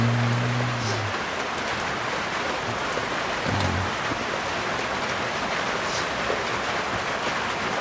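Steady rain falling on a roof in rural Thailand, a dense even hiss throughout with a few faint low tones near the start, no voices.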